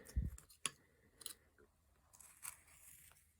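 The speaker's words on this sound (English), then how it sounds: "we're going to take our knife, and we're just going to shave up to that" A carving knife shaves wood while shaping a basic eyelid in a hand carving, giving a few faint, quiet scraping clicks and cuts spread irregularly across a soft, otherwise still background.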